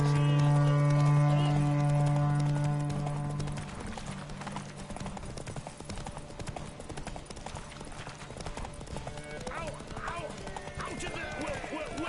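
Roach, the horse from The Witcher 3, gallops in a steady rhythmic clip-clop of hooves, with a whinny and some talk over the top, starting loud and easing to a steady level.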